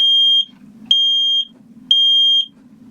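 A carbon monoxide and smoke alarm aboard a sailboat sounds three loud, piercing electronic beeps, each about half a second long, evenly spaced about a second apart, with a faint low hum between them.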